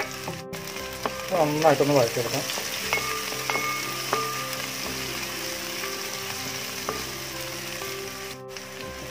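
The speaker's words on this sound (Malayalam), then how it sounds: "ഇനി അതിലോട്ട് ഞാൻ ഒരു 1/2 kg ചെറിയ ഉള്ളി കട്ട് ചെയ്തെടുക്കുന്നുണ്ട് കേട്ടോ." Half a kilogram of shallots frying in hot oil in a kadai for Kerala-style beef roast, a continuous close sizzle with stirring clinks near the start, under brief speech.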